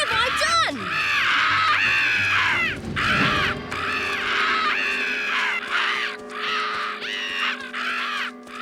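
Several crows caw loudly and repeatedly, harsh calls in quick succession, over a steady background hum.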